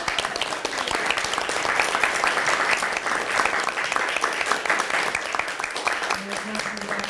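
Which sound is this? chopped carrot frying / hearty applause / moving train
hearty applause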